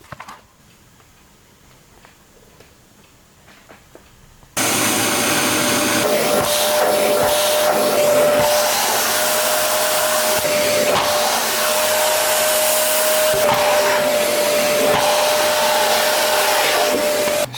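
After a few quiet seconds, a Rowenta vacuum cleaner fitted with a modified, slotted head switches on abruptly and runs with a loud, steady roar and a thin whine until the end.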